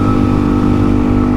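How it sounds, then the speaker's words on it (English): A Suzuki DRZ400E dual-sport motorcycle with an aftermarket exhaust and tuned carburettor pulls hard under acceleration, a loud, steady engine drone close to the rider with no voices. "Very noticeable with the exhaust and a tuned carby to match."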